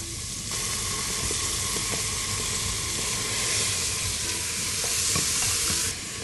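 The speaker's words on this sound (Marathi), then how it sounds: "ओके, आता आपण इथे टाकणार आहोत सोया चंक्स." Soya chunks and green peas stir-fry in a hot pan for a paneer paella, with a loud, steady sizzle and hiss running throughout and faint scraping of a spoon, with no talking.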